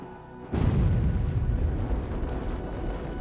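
A tank's high-explosive shell detonates in one loud, close blast that breaks in suddenly and rolls into a long, heavy rumble, holding strong to the end.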